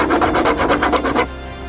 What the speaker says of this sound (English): I'm going to grind off.